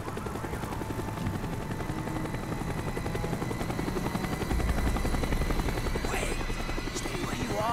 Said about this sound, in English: Chopper is coming around again.